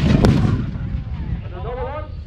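A single loud gunshot blasts close by, its sharp crack followed by a rolling, fading boom that rings out over the next two seconds, aimed at a vehicle during a firepower battle.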